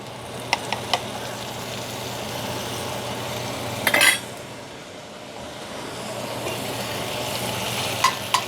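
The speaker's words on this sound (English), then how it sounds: "I'm just going to cook that in the middle of the pot without mixing it into everything else yet" Minced garlic sizzles in a touch of olive oil in the middle of a chili pot, a steady low frying hiss throughout with a few light clinks of a utensil against the pot.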